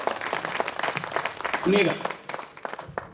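An audience at a Hindi poetry gathering (kavi sammelan) claps in a dense, continuous patter of applause while a voice speaks over it.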